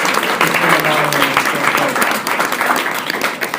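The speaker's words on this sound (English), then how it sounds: "I'd like to ask one more round of applause for my wife" A room of Republican women gives a round of applause for the speaker's wife, close, lively clapping that stays full for a few seconds with some voices mixed in.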